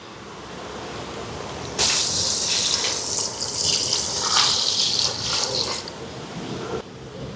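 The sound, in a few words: pouring coconut milk into pot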